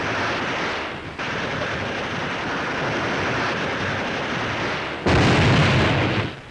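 Hand grenade blasts in a WWII war film set in the 1944 Marianas battle: a sustained, loud roar of explosion and rumble, with a sharp fresh burst near the end before it tails off.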